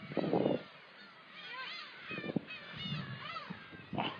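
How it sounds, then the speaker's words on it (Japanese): Black-tailed gulls call repeatedly in wavering, mewing cries at middle distance, overlapping in bursts, with bouts of wind or handling noise. "ウミネコは腐るほどいます"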